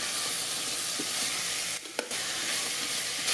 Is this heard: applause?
no